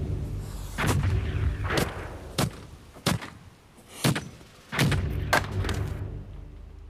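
A Tudor ship's cannon fires cartridge and ball, heard as a series of heavy booming blasts with sharp onsets and rumbling tails, several shots spaced irregularly.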